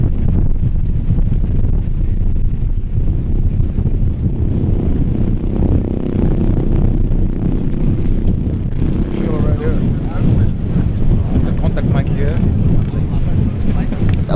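Steady low rumbling wind buffets the microphone throughout on a cold, wet film set in Iceland, with people talking underneath the blustery noise.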